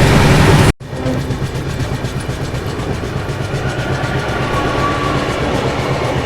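Andaman Express passing on an Indian railway line, a loud continuous rumble of rolling wagons that starts abruptly after a brief louder burst and carries on steadily close by.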